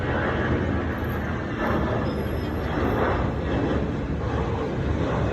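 An Airbus A320 of Cebu Pacific takes off from a runway at Zamboanga airport, a steady broad roar of jet engines that holds loud and constant throughout, with no talk.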